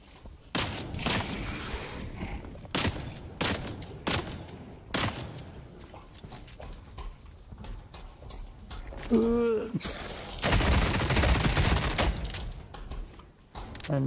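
Repeated gunshots in The Cycle Frontier, sharp loud cracks spaced irregularly across the stretch with a dense burst near the end, mixed with other game noises.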